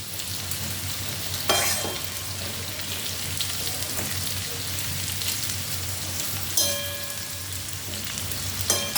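Vegetables frying in a pan, a soft continuous sizzle with a few sharp clatters of stirring, quiet and close with little else around.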